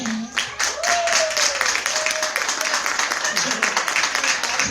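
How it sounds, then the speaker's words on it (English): An audience at a women's empowerment benefit applauds for Shavina Richardson, clapping with distinct rhythmic hand strikes while voices speak and call out over it near the start. "Y'all start giving a round of applause for my girl, Shavina Richardson."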